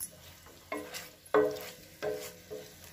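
Taro root (arbi) pieces fried in a pan on medium to high flame, scraped and stirred in a few distinct sweeps that spike against a steady background sizzle, close and moderately loud with no one talking.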